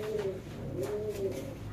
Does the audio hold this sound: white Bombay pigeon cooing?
yes